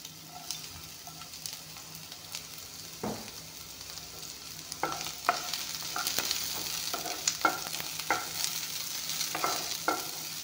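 Onion and green chillies fry in a little refined oil in a hot kadai, a steady low sizzle with frequent spatula scrapes and stirs that grow busier and louder toward the end.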